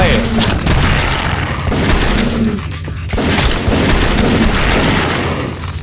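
Heavy gunfire and booms in the video game Zombie Shooter, loud and nearly continuous, with repeated bursts and a brief lull midway, while people talk over it.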